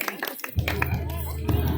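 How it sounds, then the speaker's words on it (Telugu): An audience claps for a children's performance, a dense patter of hands over a low steady hum and some voice-like sound, holding at an even level throughout. "చప్పట్లు."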